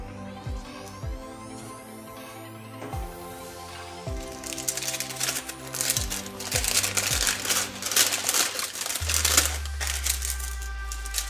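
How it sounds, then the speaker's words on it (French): Scissors snip through a sheet of parchment paper for lining a Polish karpatka cake pan, with soft crisp rustling and cutting sounds heard under background music. "Je prends ma paire de ciseaux"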